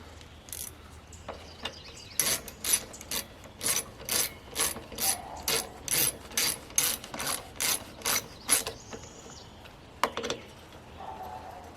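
A hand ratchet tightens bolts on a Murray lawnmower, with about fifteen quick, evenly spaced clicking bursts up close, then a pause and a couple of final clicks.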